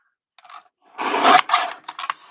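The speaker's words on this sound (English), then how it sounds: "I'm going to trim this down with my little trimmer." A small paper trimmer slicing through card, a few light scratchy taps followed by a louder rasping slide of the blade in short bursts, close and alone.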